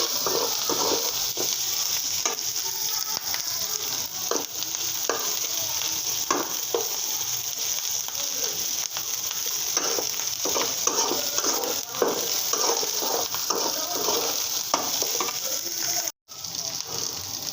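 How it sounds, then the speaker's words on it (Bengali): Fried fish with spices being stirred in a pan while cooking greens, a dense continuous sizzle with repeated scraping strokes of a spatula, close and fairly loud throughout, with no speech. "মাছটা আমি ভেজে নিয়েছি এখন মশলাগুলো মশলাগুলো দিয়ে দিলাম"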